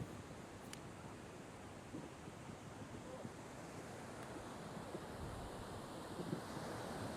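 Ocean surf rolls steadily onto a long black iron-sand beach, a continuous broad wash of waves with wind noise on the microphone, no voices.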